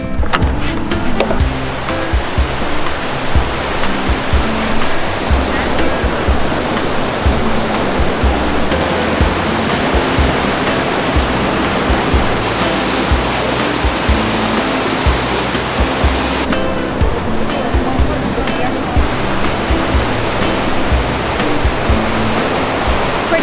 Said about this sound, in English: Impressive for a waterfall that you have to put zero effort in because it's right on the side of the road.